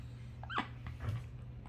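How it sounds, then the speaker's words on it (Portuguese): A small dog whimpers faintly after a bath, letting out a couple of brief, soft whines over a low background hum. "Esse cachorrinho é muito rebelde"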